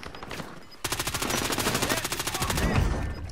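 Rapid automatic gunfire in the Warzone battle royale game, a dense burst of evenly spaced shots that begins abruptly after a quiet moment and holds loud and close for over two seconds.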